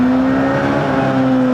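A Honda K20 engine swapped into a mid-engine Toyota MR-S revs hard and steadily, a loud, close, continuous high-pitched drone that holds at constant rpm throughout.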